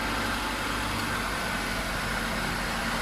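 A Nissan Sunny Neo with a 1.6-litre engine idles smoothly, a steady, even hum close by that holds without change from start to finish, with no talk over it.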